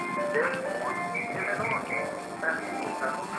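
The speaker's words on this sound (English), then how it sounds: "The ice cream truck." A street ice cream truck plays a looping tinkly jingle melody, steady and moderately close, with voices talking over it.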